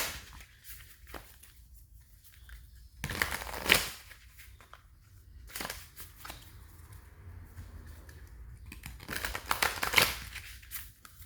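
A deck of reading cards shuffled by hand in a quiet room, with a few bursts of crisp riffling and slapping separated by soft rustling and near-silence, close and fairly faint.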